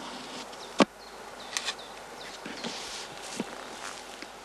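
Honeybees buzzing around straw skep hives at an outdoor bee stand, a steady moderate hum with sharp knocks and a few footstep-like thuds nearby.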